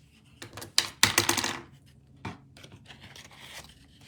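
Scissors cutting paper cardstock for a handmade card, a quick run of crisp snipping strokes close by, then a pause and a few softer, scattered cuts.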